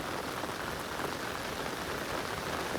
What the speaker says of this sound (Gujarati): ધડબડ વરતી વરસાદ આવી રહ્યો છે